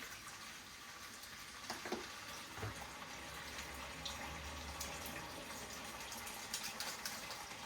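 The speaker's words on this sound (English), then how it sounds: "So now I'm going to wash my hands. Tap on, wet, soap," Water runs steadily from a kitchen tap during handwashing, a continuous moderate gush with a few brief clatters, close and fairly quiet, no voices.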